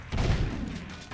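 Scatter gun blasts at Metal Heads in the Jak II video game, a short burst of heavy, thumping shots with a booming low-end punch, close and loud, lasting about a second.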